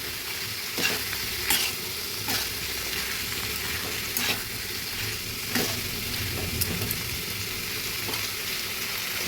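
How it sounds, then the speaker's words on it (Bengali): Fried potatoes hit a hot pan and sizzle steadily while a spoon stirs them in repeated scrapes, a continuous frying hiss with sharper stirring clicks, close and alone with no talk. "সবগুলো ভাজা আলু দিয়ে দিলাম।"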